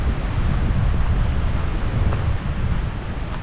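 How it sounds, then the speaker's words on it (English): Strong, steady wind roars and buffets outdoors on a hike in the San Francisco Peaks, Arizona, a continuous low rumbling gust with no pauses. "As you can see, it's real windy outside."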